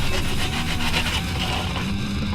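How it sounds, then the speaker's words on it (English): Rhythmic scratchy strokes of hand sanding on an AEB-L steel knife blade, close and continuous, a steady back-and-forth rasp with no voices. "Oh, I hate hand sanding."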